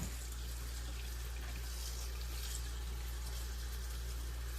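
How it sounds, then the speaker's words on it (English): Tap water runs steadily over pickling onions and bell peppers as the salt is rinsed off, a continuous close splashing hiss with no pauses. "so rinse this all out. Try to get all that salt off of there."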